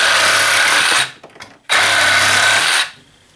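A Milwaukee M12 FUEL Hackzall reciprocating saw buzzes loudly through 1-inch PVC pipe in two steady bursts of cutting. A brief pause with light rattling separates them, close and harsh throughout.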